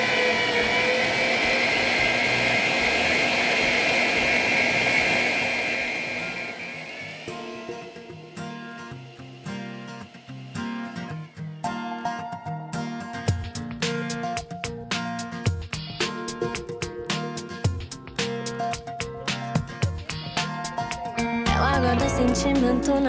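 An electric mixer whirs steadily as it beats egg whites into meringue for a pavlova, a loud continuous motor drone that fades down partway through while dense clattering and music-like tones play over it.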